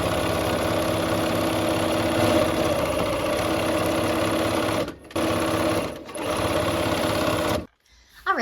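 A sewing machine stitches quilt seams in a fast, steady mechanical whir, pausing briefly twice and stopping near the end, close and clear with no voices.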